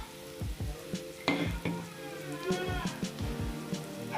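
Spices sizzling and frying in oil with sautéed onions for a spicy coconut egg curry, steady crackle with scattered stirring scrapes, close and alone.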